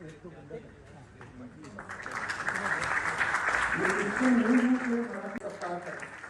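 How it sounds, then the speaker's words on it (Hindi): An audience at a Hindavi Swaraj foundation festival in Delhi breaks into applause that swells gradually and holds steady, heard beneath someone speaking over a public address system. "आप सबकी जोरदार तालियों के साथ"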